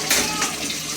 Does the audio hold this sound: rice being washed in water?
yes